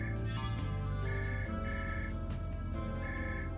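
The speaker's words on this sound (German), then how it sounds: "Telefon, geh mal kurz ran." A telephone rings in the video game Save Koch, repeating bell-like tones over a steady, dense game soundscape with no talking.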